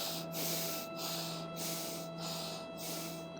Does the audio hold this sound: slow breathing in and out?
yes